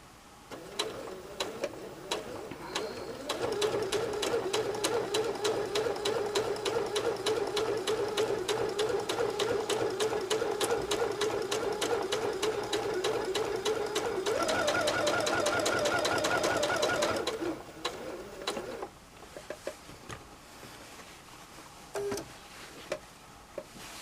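A sewing machine stitches straight quilting lines on fabric without a walking foot, a steady fast mechanical whir and ticking running for about fifteen seconds, then slowing and stopping into scattered handling noises.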